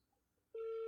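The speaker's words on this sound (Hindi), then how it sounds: "आमिर, मैं ये आपकी वाइफ को फ़ोन कर रही हूँ।" A phone's steady dialing tone cuts in abruptly and holds loud as a call is placed to a number, with no talk over it.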